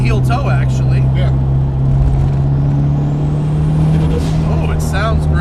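A modified Mitsubishi Galant VR4 with its 4G63 engine hums steadily from inside the car, a loud, constant drone with a rising whine partway through, as people talk over it.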